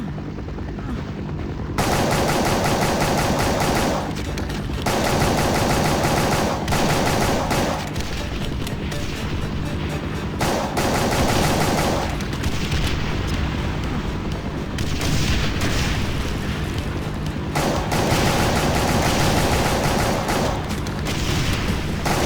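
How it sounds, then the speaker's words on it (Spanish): Machine gun fire in the first-person shooter Brutal Doom, loud and sustained bursts of rapid gunfire with heavy booming impacts, running almost continuously with brief pauses between volleys, no talking. "Ametralladora"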